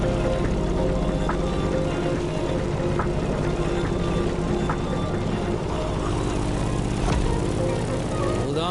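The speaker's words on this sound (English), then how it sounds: "In the cockpit of a stunning Grumman F8F Bearcat, or simply the Bear." A Grumman F8F Bearcat propeller plane in the video game The Crew Motorfest drones steadily throughout, a dense, even engine roar with faint clicks and wind noise over it.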